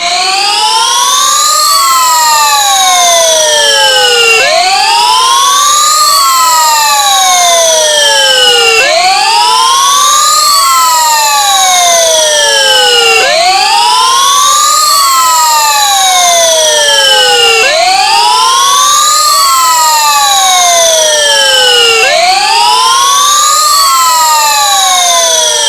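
A repeating electronic alarm tone sweeps up and down in a steady siren-like cycle roughly every four seconds, loud and continuous with no other sounds.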